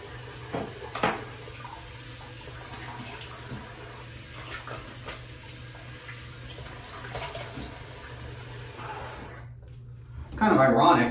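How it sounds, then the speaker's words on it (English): A bathroom tap runs steadily at moderate level as a face is rinsed after shaving, a constant watery wash with a louder, splashier gush near the end; a voice is heard faintly. "and then we'll rinse off my face."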